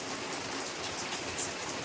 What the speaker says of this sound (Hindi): बाहर बारिश हो रहा है तो आवाज आ रहा होगा